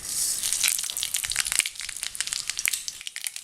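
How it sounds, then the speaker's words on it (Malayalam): Half a teaspoon of mustard seeds splutters in hot coconut oil in a pan, giving dense, close, rapid crackling pops that thin out toward the end, with no talking. "കടുക് പൊട്ടിക്കഴിയുമ്പോൾ കുറച്ച് തേങ്ങാക്കൊത്ത്,"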